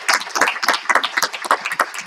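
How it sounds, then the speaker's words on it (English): Graduates at a commencement ceremony clapping for themselves, close and crisp with individual sharp hand claps standing out in an uneven, lively patter. "just give yourself a round of applause"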